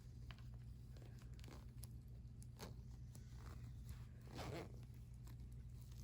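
A zipper on a Casio Moflin plush toy is pulled open in a few short, quiet rasps, with soft fabric crinkling and handling noise between them.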